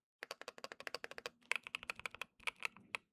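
Fingers type rapidly on a Keychron wooden mechanical keyboard, a dense run of crisp clacking keystrokes close up, then slower, heavier single presses with a brief pause near the end.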